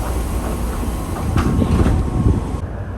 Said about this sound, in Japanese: 電車は紀の川を横断